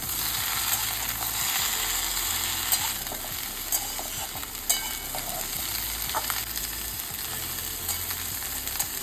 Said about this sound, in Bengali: নুন ব্যবহার করলে কিন্তু এটা থেকে জল ছেড়ে যাবে, সেই জন্য আমি কিন্তু এমনি ফ্রাই করছি